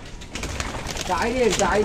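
Pigeons released from a loft coo softly nearby in a couple of short warbling calls over low background noise, with faint voices.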